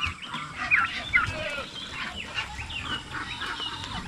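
Chickens and a rooster cluck nearby on a small farm, with short calls popping out over a busy background of fowl and a faint voice.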